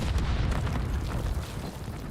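A grenade goes off in a Call of Duty League match, a deep rumbling boom that fills the short moment with heavy low-end roar.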